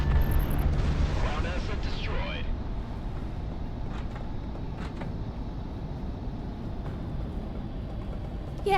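Missile explosions in the combat flight game Project Wingman, a dense, rumbling roar of blasts and booms beneath a continuous engine drone, with a few sharper impacts scattered through, loud and sustained.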